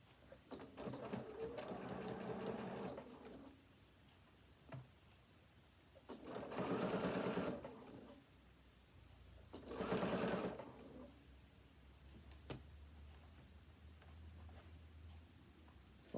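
Sewing machine stitching binding onto a card wallet, three separate bursts of rapid mechanical whirring, each a couple of seconds long, separated by quiet pauses with small handling clicks.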